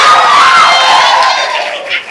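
Polytechnic students in a campus dialogue session cheer and shout loudly as a crowd, a dense roar that starts strong and gradually tapers over two seconds.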